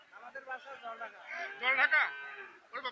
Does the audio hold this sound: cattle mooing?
yes